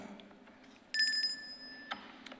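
A single small bell rings out clearly with a bright, sustained ding that slowly fades, heard against quiet room tone in a council committee meeting, marking thirty seconds left to speak.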